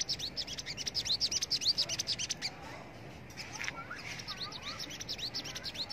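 A caged bird in Vũng Tàu calls up close with rapid, repeated high chirps and tweets, breaks off briefly, then resumes its chirping trill.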